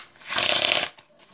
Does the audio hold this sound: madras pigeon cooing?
no